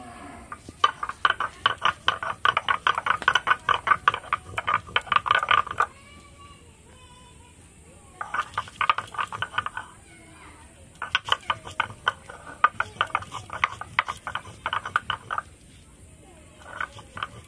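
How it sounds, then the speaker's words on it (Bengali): Four or five dried chillies are ground into a paste by hand, giving bursts of rhythmic, gritty scraping that run for several seconds, pause, then start again, with short quiet gaps between the stretches. "ঝালটা আগে বেটে নেব।"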